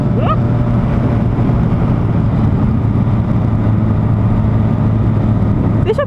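Loud, continuous engine drone from a Honda Hornet motorcycle being ridden, with a steady hum and rushing noise throughout and brief voices at the start and end.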